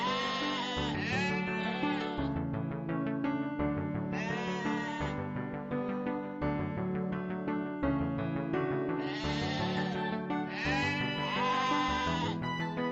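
Sheep bleat continuously in a flock during rural work treating injured ewes, many overlapping calls repeating loudly and close, with no talk.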